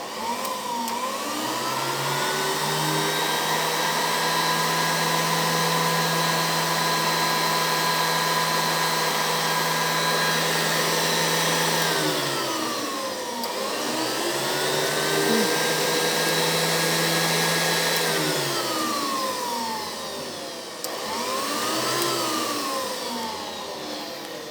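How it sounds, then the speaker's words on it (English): An air blower on heat transfer lab equipment runs with a loud, steady whine and hum. Its pitch dips and recovers twice as the speed changes, and no voices are heard over it. "Let me switch on the blower."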